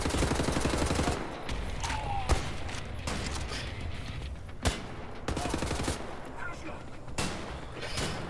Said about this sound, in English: It's a shotgun he's packing.